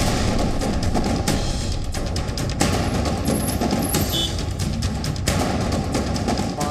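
Rapid gunfire from a militant encounter in Kulgam, a dense, continuous crackle of shots with sharp transients, steady and loud throughout, with no clear talk.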